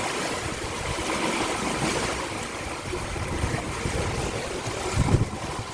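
Broad rushing wash of water and wind around a sailboat running downwind in light seas, steady and close, with a soft thump near the end.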